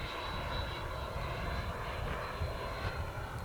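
An HSD Jets T-33 model jet with a 120mm electric ducted fan cruising at half throttle, giving a steady, fairly quiet whooshing whine with no interruptions and no talk.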